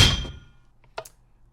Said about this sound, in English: zombie attacking iron door,